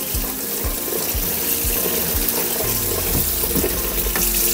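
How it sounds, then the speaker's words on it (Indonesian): Tap water runs steadily into a kitchen sink over raw chicken being thawed, a loud continuous splashing rush with occasional soft knocks. "Sorry ya, agak ribut sedikit soalnya saya lepas air mengalir."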